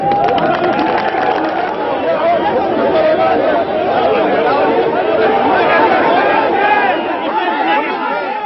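A dense crowd of protesters at a wintertime AAP rally in Delhi chatters continuously, many overlapping voices forming a loud, unbroken babble throughout.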